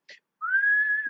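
A person mouth-whistles to imitate a lifeguard's whistle at a swimming pool: one clear, sustained, close tone that rises briefly at the start and then holds steady, with no talk over it.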